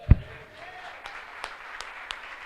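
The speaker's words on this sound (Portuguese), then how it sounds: "Uma salva de palmas ao Espírito Santo." A church congregation at a Sunday service claps sparsely, with a sharp early clap followed by scattered, spaced-out claps over a low room murmur.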